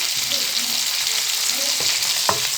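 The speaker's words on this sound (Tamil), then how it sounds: "சேர்த்துட்டு இது நல்லா கொஞ்சம் நேரம் வதங்கி வரட்டும்" Chopped onions, green chili, coriander and mint sauté in a hot pan, giving a constant close sizzle. A few stirring scrapes break through it.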